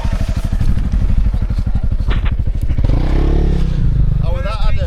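A small motorcycle engine at the muddy, rainy Dragon Rally putters close by with a fast regular chugging beat, then drops to a rougher idle while people talk over it.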